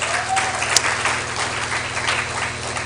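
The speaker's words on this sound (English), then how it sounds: "Let's give her a round of applause." Steady audience applause fills a church hall at a teens-versus-parents debate, dense and continuous clapping from a crowd at moderate distance, holding evenly for a few seconds with no talk over it.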